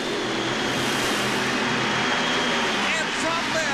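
Nitro-burning drag racing engines of about 4,000 horsepower roar at an NHRA California Nationals race, a loud continuous dense blare under a commentator's voice.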